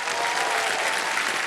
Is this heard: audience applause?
yes